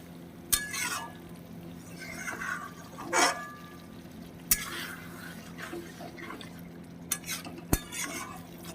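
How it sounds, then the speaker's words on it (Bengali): Marinated chicken stir-fried in a pan: intermittent scrapes and clatters of a spatula against metal over a faint, soft sizzle, close and fairly quiet, with no talking. "চিকেনটা দিয়ে দেব। এবার সুন্দর করে কষিয়ে নেব, আবার কিছুক্ষণ ধরে সুন্দর করে কষিয়ে নেব।"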